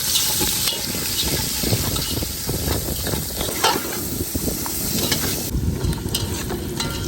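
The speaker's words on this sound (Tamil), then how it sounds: "அடுத்து வெங்காயத்தை போட்டுருவோம் அப்படியே பச்சை மிளகா நாலு பச்சை மிளகாயும் சேர்த்து போட்டு விட்டுற வேண்டியதான்" Sliced onions and four green chillies frying and sizzling in hot oil, a steady close crackling hiss with stirring scrapes throughout, no voices.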